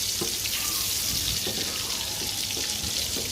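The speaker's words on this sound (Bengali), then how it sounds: "তেলটা গরম হয়ে গেছে মাছগুলো দিয়ে দিয়েছি" Hilsa fish pieces fry in hot oil, giving a steady, dense sizzling hiss that holds close and even throughout, with no one talking.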